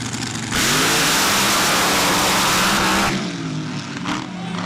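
Pro mud race trucks launching off the line at a mud drag race, loud roaring revs that surge suddenly and hold strong for a few seconds before easing back to a lower engine rumble.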